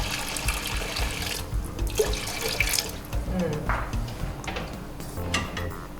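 Water pours loudly and steadily into a pot of beans set on the fire for a Nigerian Nupe dish, a continuous splashing gush with brief faint voices in the background.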